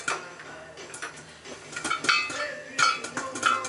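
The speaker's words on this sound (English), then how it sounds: "When I hear the popcorn kind of slowing down a little bit" Popcorn popping inside a vintage electric coil cooker, with scattered sharp pops and ticks that grow denser toward the end, fairly close and moderately loud, with a faint voice in the background.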